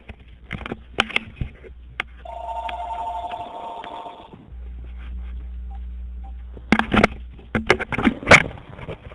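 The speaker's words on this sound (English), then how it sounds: "that's the phone." An indoor telephone rings with a steady electronic tone lasting a couple of seconds, surrounded by scattered clicks and taps nearby.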